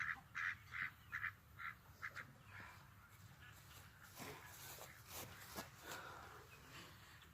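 Several ducks quack in a rhythmic series of nasal calls, followed by faint rustling and soft background noise.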